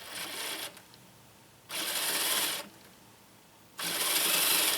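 Holmes Hobbies RC brushless motor spinning up in three short bursts, each a bright whirring whine that holds for under a second and then cuts off, with quiet gaps between them.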